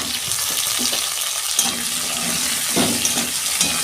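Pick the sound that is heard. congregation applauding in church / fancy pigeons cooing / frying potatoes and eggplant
frying potatoes and eggplant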